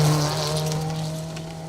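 Nissan Micra rally car in the 1400 S class running a Woodpecker Stages Rally stage, a steady engine drone with a strong low tone, fairly loud and continuous throughout, fading slightly toward the end.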